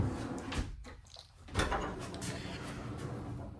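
A pull-out toilet paper drawer in a fifth wheel RV slides and clunks shut, a short scraping rush followed by a soft knock over faint room noise.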